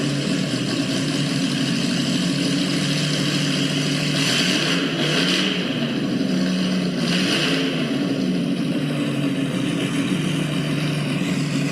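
A Shelby car engine running on display at a museum, a loud steady rumble with a couple of brief revs rising partway through, heard alone without talk.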